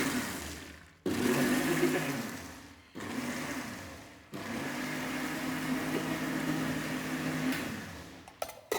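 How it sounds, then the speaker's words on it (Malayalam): A mixer grinder grinds roasted coconut and spice paste for a prawn curry in a home kitchen, a loud, steady whirring drone broken by brief pauses, running alone without talk. "ഇനിയിപ്പോൾ ഇതാ നമ്മളിവിടെ വറുത്തരയ്ക്കും."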